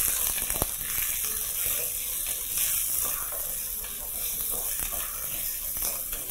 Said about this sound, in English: And all you're going to do now is proceed to brown your meat.